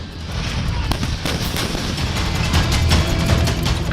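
Loud, rapid bursts of heavy Indian Army artillery fire pound continuously at a Gunners Day display, with sharp repeated blasts overlapping into a dense barrage.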